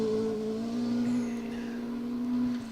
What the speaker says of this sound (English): Glorious sounding Mark II.